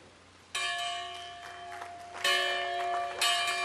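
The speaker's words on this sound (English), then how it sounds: "Ringing a bell that hung in a church built by slaves and free blacks, Obama officially opened the National Museum" A church bell from a church built by slaves and free blacks is rung to open the National Museum of African American History, three resonant strikes each ringing on with long bright overtones, close and clear.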